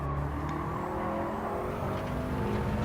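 Race cars in Gran Turismo 7 engines droning steadily, with a faint whoosh of a car passing nearby, moderately quiet, no talk.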